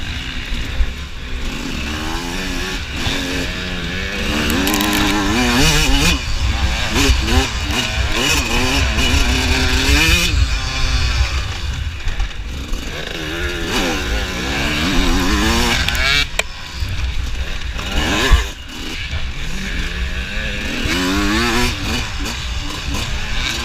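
Dirt bike ridden through whooped-out trail sections during an AMA D-14 hare scramble race, its engine droning and revving continuously and loudly close by, rising and falling with throttle changes throughout.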